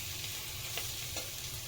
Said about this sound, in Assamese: এতিয়া দি এনেদৰে লৰাই লওঁ